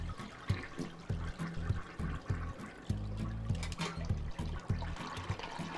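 A toilet flush in the video game Unpacking: steady rushing, gurgling water running throughout, close and fairly loud, with no voices.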